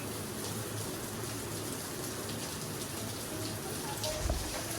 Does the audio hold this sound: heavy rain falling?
yes